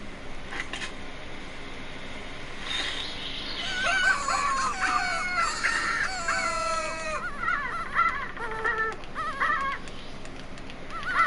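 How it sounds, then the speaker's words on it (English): Animal calls from a hunting call played in The Hunter: Call of the Wild: a run of several rising and falling, squealing, whistle-like calls repeating over several seconds above a steady ambient hum. "Let's just pull out a call or two and give a few calls and see what happens."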